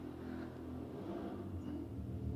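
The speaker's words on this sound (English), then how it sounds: "Loud motorbike outside." A loud motorbike engine rumbles steadily outside throughout, a continuous low drone with slight swells as it passes.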